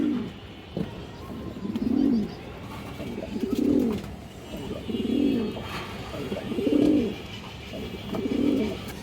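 Highflyer pigeons, including a big healthy cock bird, give soft throaty coos at regular intervals, five rounded calls close by over a faint background hiss.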